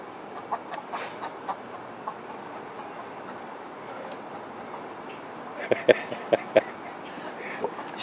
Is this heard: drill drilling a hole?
no